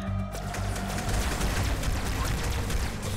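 Dense, continuous gunfire from a gun in the video game Halo 2, a steady close rapid stream of shots with no pauses and no talk.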